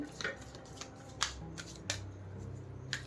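Tarot cards are handled and shuffled during a card reading, giving soft, papery riffles and flicks with a few brighter snaps. They are quiet and close against a steady low background hum, with no speech.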